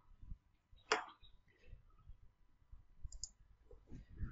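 A few quiet, sharp computer mouse clicks, a right-click while working in Scratch 2, heard close and isolated against faint background noise.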